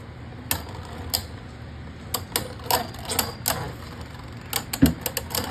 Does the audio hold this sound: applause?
no